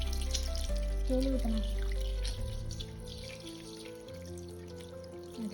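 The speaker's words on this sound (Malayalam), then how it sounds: "പതുക്കെ ടാങ്കിൽ വെള്ളം നിറയ്ക്കുന്നുണ്ട്" Water slowly filling a fish aquarium tank, a soft steady trickle and pouring close by, under calm talk and a quiet hum.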